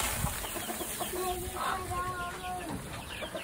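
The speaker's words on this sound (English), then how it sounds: "the rooster's going crazy, huh?" Frizzle chickens cluck nearby in a coop while a rooster lets out a drawn-out, rising crow, with other faint farmyard noises around them.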